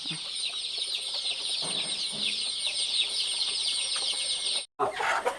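Kairali chickens on a poultry farm with laying hens and parent stock cluck steadily together over a constant high insect-like hiss, with a brief gap near the end.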